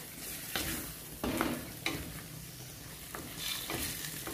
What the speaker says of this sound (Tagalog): Mix properly para maging pantay yung tomato sauce niya.